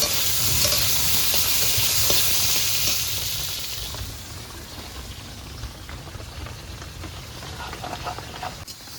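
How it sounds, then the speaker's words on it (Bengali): Pointed gourd frying in hot oil while being stirred in a pan, a steady loud sizzle that eases a little midway, with scraping stir strokes and spatters over it and no voices. "পটলটা ভাজা হয়ে গেছে,"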